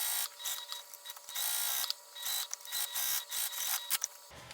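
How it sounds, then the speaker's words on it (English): A sewing machine bastes a pocket onto fabric along the sides and bottom, whirring in short, fairly quiet bursts separated by brief pauses, with no talking. "we're just going to baste this in place around the sides and the bottom"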